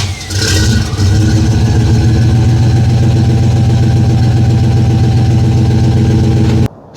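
Steady, loud rumble of a 1993 Chevy Blazer K1500 full-size truck engine idling close by, a brief rev at the start settling into an even throb before it cuts off abruptly.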